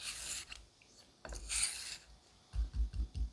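Japanese straight razor blade honed on a whetstone, with scraping strokes followed by a run of short rhythmic rubbing laps, close and fairly quiet.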